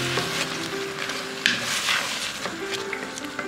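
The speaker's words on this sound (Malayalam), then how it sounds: "ശർക്കര ഒഴിച്ചു കൊടുത്തതിന് ശേഷം കുറച്ചു നേരം നന്നായിട്ട് ഇളക്കി കൊടുക്കാം." Jaggery syrup being stirred into rice payasam in a pan, a steady soft sizzle and scraping with occasional light clinks of the spoon, close and continuous without speech.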